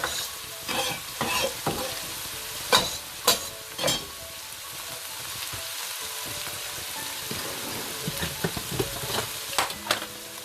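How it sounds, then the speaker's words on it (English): Coriander stalks, garlic and onions sizzle steadily in a pan for a quick chicken bhuna, broken by several sharp scraping stirs of a utensil against the pan. No one speaks. "We'll give that a little bit of a stir round."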